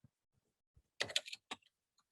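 Keyboard typing used as an effect for a video intro: a quick cluster of close clicks, then a single tap, faint and alone.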